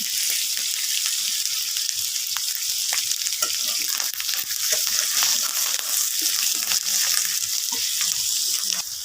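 Turmeric, chili powder and other spices fry in hot oil in a pan for a rohu fish curry in a village kitchen, giving a loud, steady sizzle with frequent scraping and stirring strokes.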